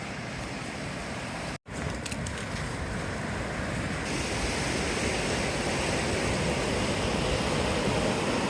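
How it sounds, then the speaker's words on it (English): Steady, broad rushing of a river flowing near Lick Log Falls on the Foothills Trail, continuous and fairly loud, with a brief dropout near the start and no voices. "You get the sounds of the water,"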